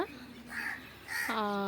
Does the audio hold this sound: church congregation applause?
no